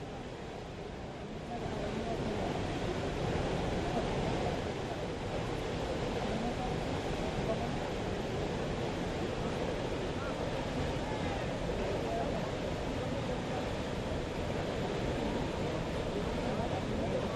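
Water surges in at the Kaleshwaram irrigation project during its wet run, a steady, loud, broad rushing roar that holds constant throughout with heavy wind buffeting the microphone.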